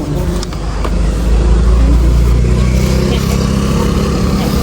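A motor vehicle passes close by on a Philippine street, its engine rumble swelling loud after the first second and holding steady to the end, with no talk over it.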